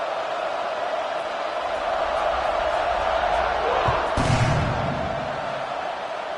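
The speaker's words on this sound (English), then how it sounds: "this crowd is buzzing after that last score" A football stadium crowd buzzes after a touchdown, a broad, continuous roar at a distance that holds steady, with a brief thump and a swell near the end.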